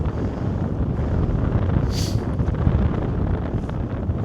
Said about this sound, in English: Bit blowy now, like.